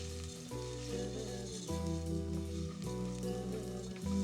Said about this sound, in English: you just stir the rice in the fat and the shallots